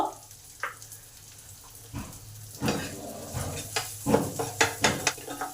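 Chopped onion with salt frying in oil after garlic has browned, a close sizzle broken by clattering pan and spatula knocks that grow into a rapid run of stirring strikes toward the end.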